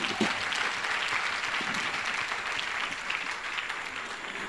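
A church congregation claps in steady, sustained applause that fills the room at moderate loudness for several seconds.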